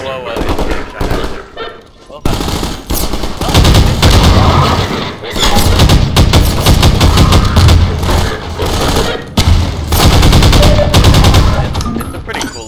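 Gunfire in the first-person shooter Half-Life 2, loud rapid bursts of automatic shots with short gaps, close and dense, with speech mixed in at times.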